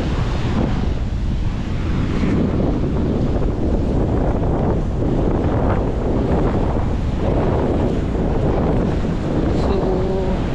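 Strong typhoon wind from Typhoon Nando roars across the microphone alongside crashing waves and surging water, a dense, continuous, loud rumble without pause.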